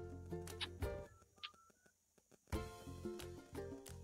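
A telephone number is dialed, a series of short keypad tones in quick bursts separated by a brief pause, close and clear with no talk.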